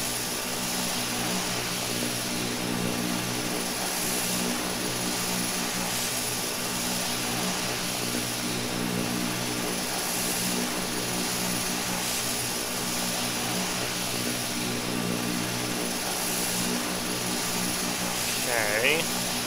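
Simulated EMB-120 Embraer turboprop in a flight simulator game, engines droning loud and steady with a propeller buzz throughout the takeoff roll, with radio-style voice chatter faintly mixed in.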